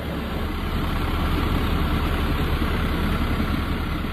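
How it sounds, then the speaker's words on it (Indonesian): A septic tank vacuum truck's engine runs continuously, a steady loud idling drone with a dense rumbling low end that powers the suction pump, constant throughout with no talking. "Bila mesin mobil dinyalakan, alat ini akan bekerja untuk menyedot tinja dari lubang septic tank."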